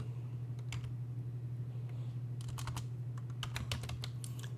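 Fingers tap out a short command on a computer keyboard during Linux administration work, a quick sparse run of key clicks that turns into a denser burst near the end over a low steady hum.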